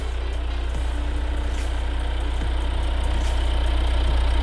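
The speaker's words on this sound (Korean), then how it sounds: "엔진 소리 일정하네요" A fourth-generation Kia Carnival minivan engine idles with a steady, even low rumble that holds constant throughout, with no voices.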